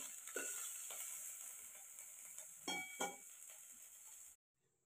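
Tomato frying in a pan on a wood-fired stove, a steady close sizzle with a few scraping stirs before it cuts off abruptly near the end.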